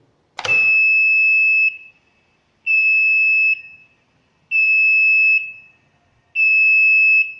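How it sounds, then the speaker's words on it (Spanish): A loud, steady electronic motor-overload alarm buzzer sounds in four long beeps separated by short pauses, following an initial click. "se debe activar el contactor B y la alarma audible destellante"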